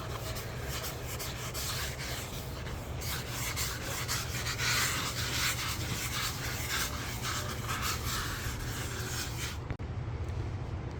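Steady, close rubbing and rasping as an 18-inch sanding board block-sands the filler and paint on a storage-unit surface in long continuous strokes for about ten seconds, with no talking.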